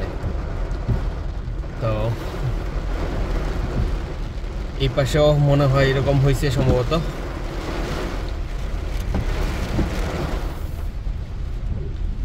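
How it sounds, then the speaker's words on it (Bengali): Heavy rain pours down in Dubai, a steady broadband roar that fills the whole scene while someone talks over it, swelling briefly louder midway. "এরকম বৃষ্টি দুবাই লাইফে আর আমি দেখি নাই"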